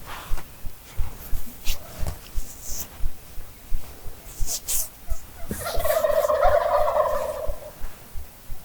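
A flock of turkeys gobbles in the distance in South Dakota, a burst of overlapping calls rising midway, over rhythmic thumping footsteps.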